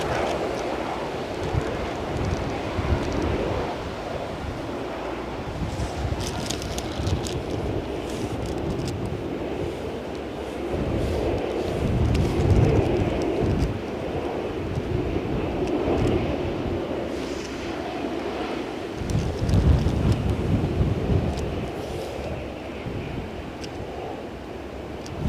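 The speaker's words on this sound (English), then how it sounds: "everything else is still windy" Strong gusty wind at Edinburgh Airport during Storm Floris roars steadily with low rumbling buffets that swell and ease, loud and continuous throughout.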